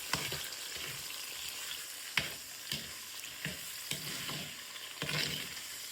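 Masala for an eggplant curry frying in a pan, a steady close sizzle punctuated by repeated spatula strokes and scrapes at irregular intervals, with no voices.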